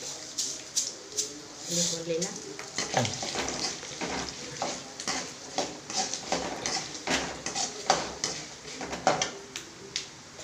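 Seeds frying and being stirred in a hot pan during home cooking, with light sizzling and scraping strokes recurring steadily at close range, partly under a voice speaking.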